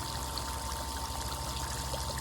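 Water rushing from a GAME Sandpro 75D pool sand filter driven by a new pump with a bigger motor during backwash, a steady, faint, continuous pouring stream with a low motor hum underneath.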